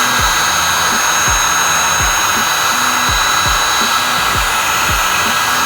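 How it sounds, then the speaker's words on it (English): A heat gun blows hot air over a peeling vinyl car wrap, a steady loud hiss and whoosh running unbroken throughout, with repeated short low thumps underneath. "I know technically you're not supposed to use a heat gun while the wrap is on the car"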